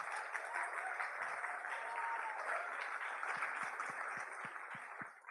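Steady, fairly faint applause from a student audience at a live university quiz final in Leeds, a continuous wash of many hands clapping with no talk over it.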